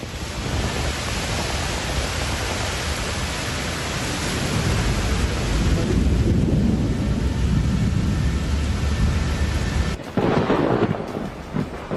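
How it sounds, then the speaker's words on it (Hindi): Heavy city thunderstorm with pouring rain and rolling thunder, a dense loud roar swelling midway, then cutting abruptly to a quieter patch of rain at the end; no voices. "शहर के कई हिस्सों में तेज बारिश के साथ साथ आकाशीय बिजली भी गिरी"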